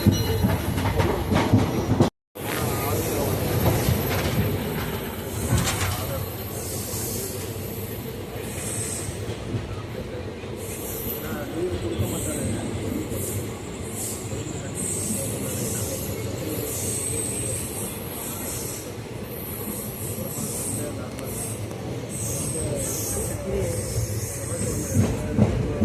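The Kaveri Express passenger train rolls along the rails between Arakkonam and Bangalore with a steady, dense rumble and rhythmic wheel clatter. Faint squeals and clicks come through over nearly half a minute, with a brief dropout near the start.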